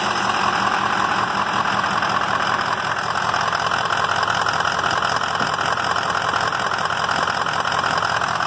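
A diesel engine on a 2003 Jeep or truck runs steadily during a diagnosis, giving a constant, fairly loud idle with a rough, knocking texture and no pauses.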